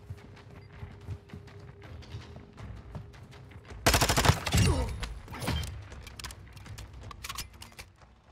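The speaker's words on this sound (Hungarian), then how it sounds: "Mindig itt lövöldözök ezekkel a majmokkal." A burst of rapid gunfire crackles loudly for a couple of seconds in Call of Duty: Modern Warfare 2 Warzone, followed by scattered shots amid a busy game soundscape.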